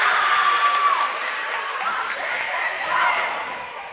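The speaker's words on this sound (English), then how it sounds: "Girls from Greenwood, the team bench cheering on." A girls' volleyball team bench from Greenwood cheers and claps loudly in a gym during a WIAA high school match, a sustained crowd roar with scattered shouts and a commentator talking over it.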